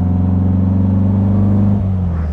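A restored, power-boosted 1957 Porsche 356 Speedster drives with a steady, loud, low engine drone and a strong rumbling tone that holds even, then dips slightly near the end of the stretch.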